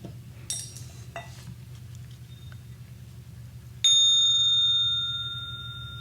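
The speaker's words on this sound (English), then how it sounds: "I'm going to ring my sound bowls" A few soft clinks and taps, then a bowl is struck once and rings out with a clear, sustained tone that slowly fades.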